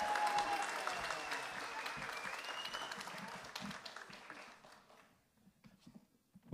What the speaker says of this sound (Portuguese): Gente, palmas para a Lívia passando ali atrás.